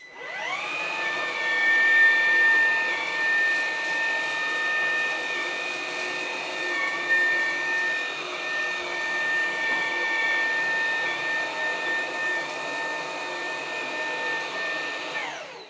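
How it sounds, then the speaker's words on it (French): Dreame H12 wet-dry vacuum in normal mode cleaning a carpet and tiled floor with its dust brush, a steady close whine with a high tone that holds throughout with little variation. "j'utilise donc la brosse à poussière pour nettoyer ce tapis et également le carrelage"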